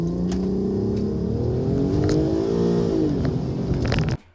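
A Volkswagen R32 with a VR6 engine and DSG gearbox launches hard using launch control, its loud, close engine note rising steadily and swelling for about four seconds before cutting off abruptly.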